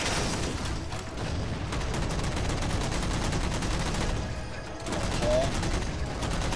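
Rockets and gunfire in the video game Halo 4, a sustained dense barrage of rapid shots and explosions, briefly easing before resuming loud, with a short spoken word from a player.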